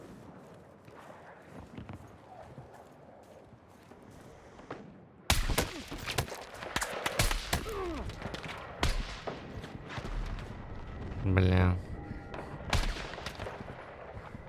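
Gunfire from the video game Battlefield 6 in a Conquest match on Firestorm: rapid bursts of shots and loud impacts crowd the second half, with a louder blast near the end, following a quieter stretch and a brief spoken exclamation.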